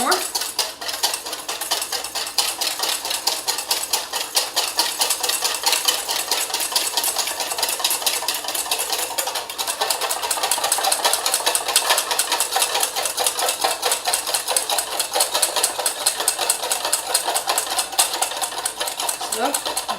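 Oil is whisked into a basic vinaigrette, a fast continuous metallic scraping and clicking of whisk against bowl that runs steadily and fairly loud for the whole stretch.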